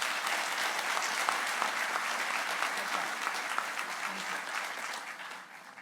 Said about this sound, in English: please give a round of applause to our mayor,